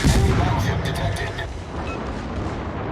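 Destroyer guns in a naval combat game fire a loud, booming salvo that rolls away and fades, with a person talking alongside.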